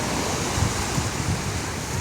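Sea waves washing onto a beach, a steady rushing surf with light wind noise, moderately close and continuous.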